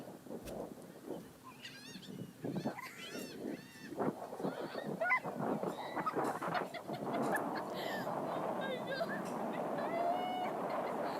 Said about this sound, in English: Seagulls are bastards.